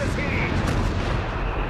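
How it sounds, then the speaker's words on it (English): Artillery shells pounding an area in Company of Heroes 3, a dense continuous roar of booms and rumbling impacts at steady loudness with battle noise throughout. "Bombing that area."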